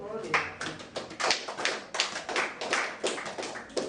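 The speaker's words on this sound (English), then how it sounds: "let's clap for him" Clapping from a group at an Igbo summer camp session, uneven bursts of hand claps close by, partly mixed with voices.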